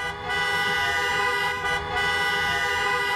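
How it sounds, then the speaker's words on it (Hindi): Many car horns honk together in a sustained, blaring chorus as lined-up cars at a racing track event kick off a rally, loud and continuous with brief dips. "सबने एक साथ हॉर्न बजाकर कार्यक्रम की शुरुआत की"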